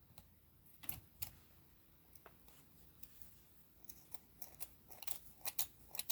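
Small snips of a pair of dull scissors cutting fairy silk thread, a scattering of faint, sharp clicks at irregular intervals over quiet background, growing busier toward the end.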